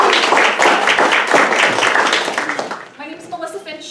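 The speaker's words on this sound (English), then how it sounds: "If we can give everyone a round of applause again." Audience at a housing workshop in Pacific Grove, California bursts into a steady round of applause, dense clapping filling most of the moment before tapering off as a voice begins speaking.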